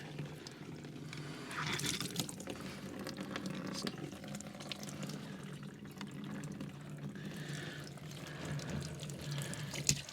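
Water trickling and dripping out of the sludge plug on an old stuck John Deere B tractor engine, a steady faint splashing flow without speech.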